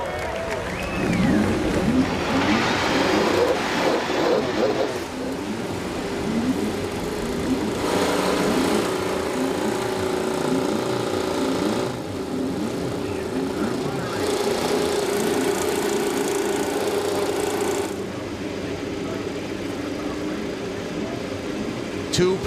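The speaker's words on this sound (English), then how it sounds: "Drivers, start your engines." Several IndyCar race car engines start up on the grid at the Detroit round, a mix of buzzing, revving motors, some near and some farther off, running under a public-address announcer's voice.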